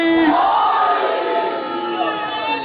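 A large crowd at a Shia majlis gathering roars a religious slogan in unison, a loud sustained collective shout that swells and holds, full of many overlapping voices.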